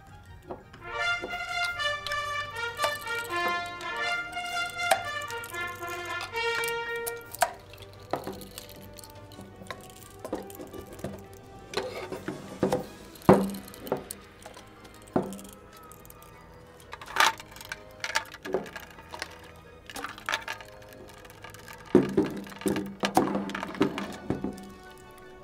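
A four-valve slip joint sprinkler valve manifold is assembled by hand, with irregular clinks, taps and hard plastic clicks of fittings coming together, some sharp and close, spread over a steady background with pauses between parts.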